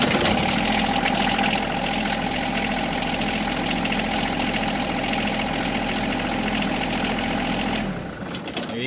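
A John Deere 2305 compact tractor engine runs at a steady, loud idle with a rough, knocking diesel rumble for about eight seconds, then cuts off abruptly near the end.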